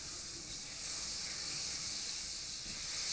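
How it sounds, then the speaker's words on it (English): Partridge breasts sear in a hot pan, giving a steady, quiet hiss of sizzling fat that runs the whole time without any break. "Gonna start cooking these partridges. This pan's hot."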